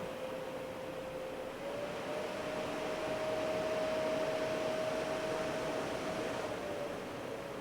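A Seville Classics Ultra Slimline tower fan runs with oscillation on, giving a steady, even airy whoosh with a faint constant motor tone throughout, moderately loud and with no talking.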